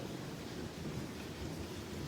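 A severe thunderstorm in Calgary gives a faint, continuous wash of rain with a low rolling rumble underneath, steady throughout and with no talking.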